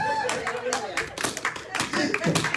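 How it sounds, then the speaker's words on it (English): A Sunday school congregation claps together in lively, uneven bursts of close handclaps, with voices mixed in among the applause. "Clap for Jesus."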